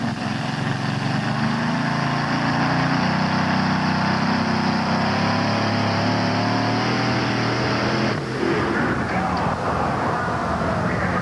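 A loud, steady tractor-pulling engine roar drones on throughout a pulling run, then near the end a sudden sharp rupture as the engine blows and the sound grows rougher.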